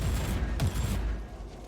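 Heavy bolter fire in Warhammer 40,000: Inquisitor - Prophecy, a short thudding burst of heavy rounds with one sharper crack midway, fading slightly toward the end.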